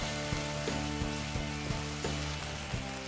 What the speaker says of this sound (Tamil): இதை நம்ம வதக்கி எடுத்துக்கலாம்